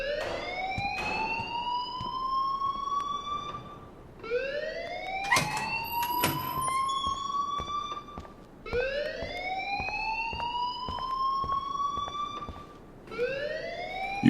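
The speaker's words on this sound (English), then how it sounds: "please turn off that alarm since that's your job" Alarm in the Life Is Strange video game, repeating rising electronic wails that cycle about every four seconds, steady and fairly loud, with occasional sharp clicks between them.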